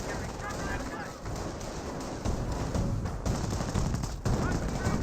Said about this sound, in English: Panzer Grenadiers does use suppressive fire ability there